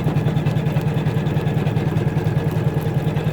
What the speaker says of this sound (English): it also stitches a triple stitch around, which really just finishes things off